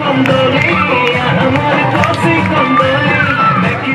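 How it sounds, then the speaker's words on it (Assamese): Dense crowd roars with shouts, whoops and ululation at an outdoor election rally on a tea garden in Biswanath, a steady loud din of many voices and clapping. "চিঞৰ বাখৰ, হুহুৰি।"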